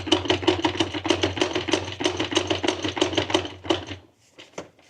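The faulty gearbox of a supercharged Kawasaki ZZR1400 makes a fast, loud, rapid mechanical clatter like rattling teeth for about four seconds, close, then drops to a couple of faint knocks.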